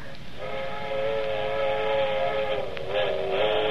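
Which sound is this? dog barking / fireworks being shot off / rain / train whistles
train whistles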